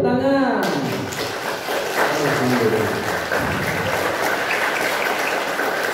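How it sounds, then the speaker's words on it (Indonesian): Children in a primary school class at a holiday Islamic program clap their hands together, a dense burst of close clapping mixed with voices, following an adult leading a chant. "Oke, tepuk tangan."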